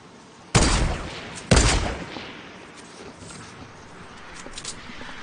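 Gunfire in a shooter video game: two sharp, loud shots about a second apart, each followed by a decaying echo, then a low rumbling tail with faint scattered noise.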